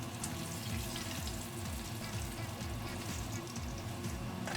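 An onion blossom deep-frying in oil heated to 180 degrees, giving a steady, dense crackle and bubbling that runs evenly throughout without pause.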